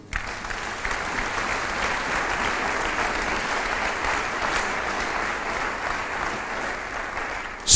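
A church congregation applauds together in a steady, continuous wash of clapping that holds at an even level for several seconds, filling the room without a break.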